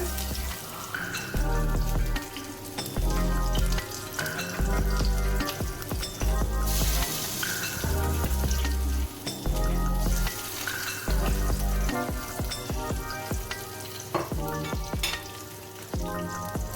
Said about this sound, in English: so we're going to pop these nuggets in to a pan of hot oil, and if it's sizzling like that